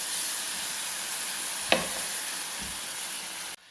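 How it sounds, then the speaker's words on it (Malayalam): Jaggery syrup poured into coconut and flattened rice roasting in a pan makes a steady, even sizzle, with a single knock partway through before the sound stops abruptly. "പിന്നെ നമ്മൾ എടുത്ത് വെച്ചിട്ടുള്ള ശർക്കര പാനിയില്ലേ, അത് നമുക്കിതിലേക്ക് ഫുള്ളായിട്ട് അങ്ങോട്ട് ഒഴിച്ചു കൊടുക്കാം കേട്ടോ."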